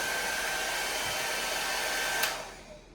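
An Agaro hair dryer blows a steady, loud whoosh of air with a faint high whine, then is switched off and winds down near the end.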